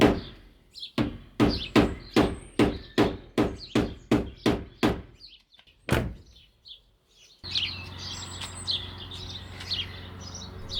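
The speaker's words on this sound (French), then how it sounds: "j'ai quand même trouvé un endroit que je pourrais masser à coups de marteau" A hammer strikes the metal body of a 1997 Opel Tigra about a dozen times in a steady, even rhythm, then lands one more blow after a pause. Bird chirps and a wash of outdoor ambience follow.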